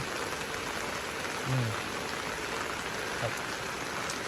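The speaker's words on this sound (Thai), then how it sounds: "ฝนตกหนัก" Heavy rain falls on open land as a steady, dense hiss that fills the whole stretch, with a couple of faint brief sounds poking through.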